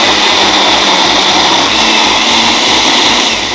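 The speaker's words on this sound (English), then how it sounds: "we've got fresh tomatoes, which I'm going to blend" A NutriBullet blender whirring through fresh tomatoes, a loud, steady high-pitched motor whine with a churning undertone, close and continuous throughout.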